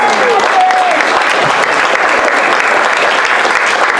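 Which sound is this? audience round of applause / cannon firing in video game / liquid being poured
audience round of applause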